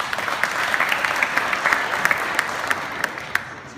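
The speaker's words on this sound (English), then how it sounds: "so give yourselves a round of applause" Steady, dense applause from an audience at a startup pitch night, many hands clapping evenly throughout with no talking over it.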